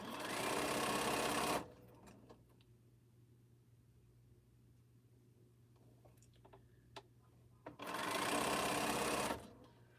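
A sewing machine stitching quilt blocks runs in two loud, steady bursts at the start and end, with a quieter stretch of faint ticks and handling noise between them.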